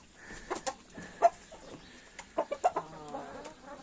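Breeding hens clucking in a poultry yard, a scatter of short clucks and squawks at moderate distance, irregular and clustered, with a low hum of the flock in between.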